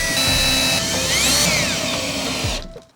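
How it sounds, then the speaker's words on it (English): Power drill whining steadily as it bores into the wooden walls of a homemade box, pitch rising and dipping mid-run, loud and close, then cutting off near the end. "We're gonna finish drilling those walls and put them on."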